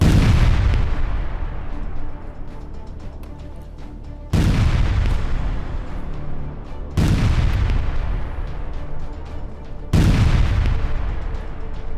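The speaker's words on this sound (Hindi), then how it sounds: "इजराइल के विमान किस तरह से गाजा पर बमबारी कर रहे हैं, यह आप देखिए" Israeli aircraft bomb Gaza: four heavy, loud explosions spaced a few seconds apart, each a deep boom that rolls into a long rumbling decay.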